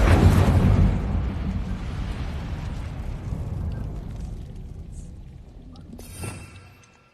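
Incendio fire spell cast in Hogwarts Legacy, a loud fiery burst that rolls into a sustained roaring rumble and slowly fades, with a smaller crackling pop near the end.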